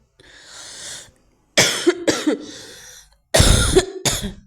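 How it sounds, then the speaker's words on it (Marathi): Several harsh coughs from a person who feels unwell, in two clusters of rapid bursts separated by a short pause, close to the microphone and loud, with no other sound. "मला खोकला येतो"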